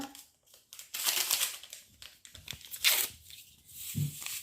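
Vanilla sugar sachets being torn open in a home kitchen while making crêpe batter, a few close, papery rips and crinkles in bursts with a soft thump near the end.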